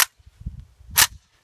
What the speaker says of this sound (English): Alright, shooting the gun 45 yard.